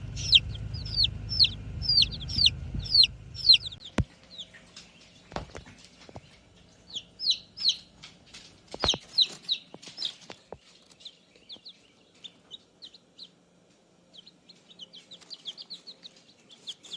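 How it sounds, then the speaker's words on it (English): Baby chicks from Cackle Hatchery peep in quick high-pitched bursts, dense at first and then scattered with pauses, fairly faint, with a few knocks and thumps nearby. "All right, so the chicks showed up from Cackle Hatchery."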